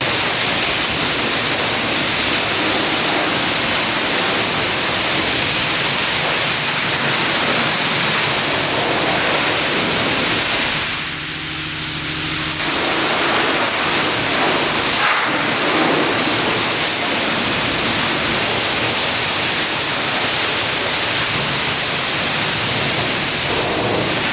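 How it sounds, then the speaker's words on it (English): Heavy rain pours down outdoors in a steady, loud, dense hiss that fills the whole stretch, with a brief dip partway through and no voices. "It's just raining really bad right now"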